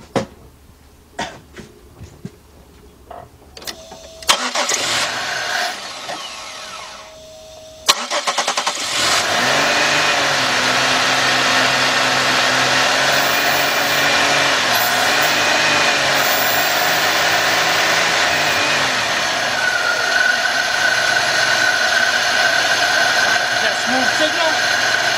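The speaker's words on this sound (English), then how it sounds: "Now I'm gonna start it up" A 2005 Chevy Impala with the 3.8 engine, which stalls out when warm, cranks over after some clicks and clunks, catches, and settles into a steady close idle that continues to the end, with people talking early on.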